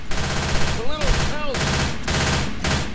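Rapid automatic gunfire in Left 4 Dead 2 rattles in loud sustained bursts with short gaps between volleys, while faint voices sit underneath.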